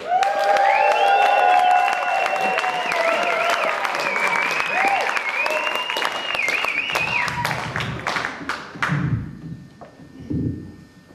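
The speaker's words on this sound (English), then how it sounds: "A big round of applause, please, for Bicko." Loud audience applause and cheering at a poetry reading in Nimbin for a performing poet, a dense wash of clapping with whoops, fading after about eight seconds as a voice begins speaking.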